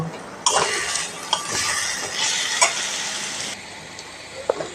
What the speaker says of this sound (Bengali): আমি এবার খানিক নাড়াচাড়া করে নামিয়ে নেব।